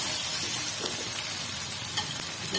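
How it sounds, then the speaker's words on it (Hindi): Ginger garlic paste frying with onions in a pan for an aloo dish, a dense, even sizzle with faint stirring, close and unbroken, without speech. "यहाँ पे हम डालेंगे इसमें अदरक लहसुन का पेस्ट"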